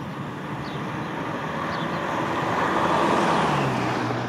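A Chevy Colorado ZR2 Bison truck at full throttle gives a steady, swelling roar of engine and road noise heard from inside the cab, building gradually over a few seconds.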